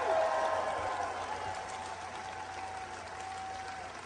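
A crowd at a Barack Obama rally in Manchester, New Hampshire applauds Governor John Lynch and Dr. Susan Lynch, steady clapping that starts loud and eases slightly while continuing throughout.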